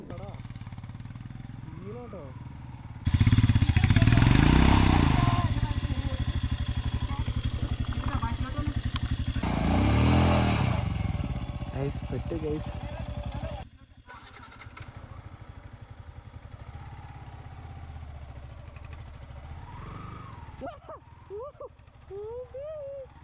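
A Yamaha MT-15 motorcycle rides offroad downhill through mud in Idukki with its rear tyre slipping. Its engine roars loudly in two long revving bursts, then settles to a lower, uneven drone, with a rider talking throughout.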